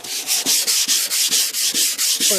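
Faded paint on a 1988 Cadillac DeVille is being hand-sanded in quick, even back-and-forth strokes, about ten rasping passes in under three seconds, close and loud with no talking.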